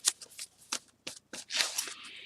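Sheets of paper for journal inserts are handled up close, giving quick rustling flicks and shuffles in short bursts that end in a longer sliding rustle, with no speech.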